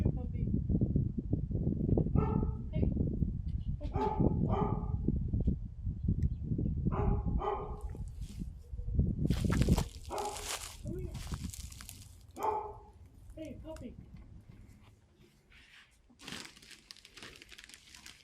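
A dog barks and whimpers inside an abandoned gothic asylum with a morgue, several short barks in the first half, mixed with crinkling bag sounds and people talking softly nearby.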